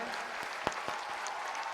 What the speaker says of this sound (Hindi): और जोरदार तालियों के द्वारा इन्हें स्वागत करें।